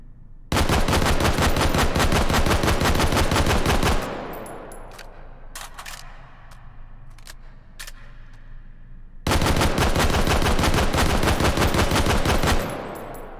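A PSG-1 rifle firing as fast as possible in the VR game Hot Dogs, Horseshoes & Hand Grenades, two long rapid strings of loud sharp shots separated by a reload with mechanical clicks.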